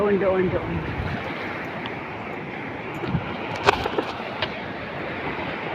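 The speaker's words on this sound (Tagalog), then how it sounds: "lumalakas na yung alon niya. Nataob. Nataib. Nagiging high tide na siya" Ocean waves on a Pacific shore growing stronger toward high tide, a steady loud wash of surf and wind noise across the whole span, with a few faint knocks.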